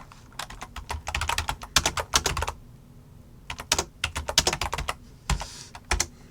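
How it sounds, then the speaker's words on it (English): Rapid keystrokes on a computer keyboard while text is typed in capital letters, close and crisp, coming in quick bursts separated by short pauses. "if I was to type it in caps"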